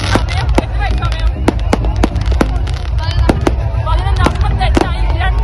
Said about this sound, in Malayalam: പടക്കം പൊട്ടിക്കൊണ്ടിരിക്കുകയാണ്.